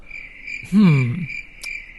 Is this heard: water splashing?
no